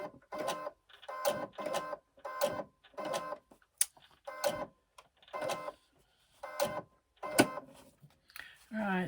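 Sewing machine stitching a zip onto a pocket panel with a quarter-inch seam, run in short repeated bursts of rapid mechanical chatter separated by pauses, fairly quiet and close, with a brief voice at the end.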